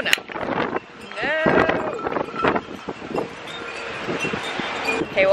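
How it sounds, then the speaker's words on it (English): Gusty wind buffeting the microphone, with a person talking intermittently over the rumbling, fluctuating noise. "Okay, it's actually really windy."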